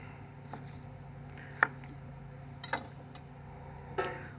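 A knife slices a red onion finely on a cutting board, heard as a handful of separate, crisp cuts spaced a second or so apart, close and clear over a quiet room with no talking.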